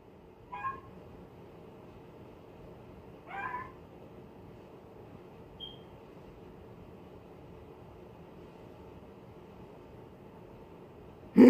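A cat meows several times at spaced intervals, a short call near the start, another a few seconds later and a faint chirp after that, close by against a quiet hiss.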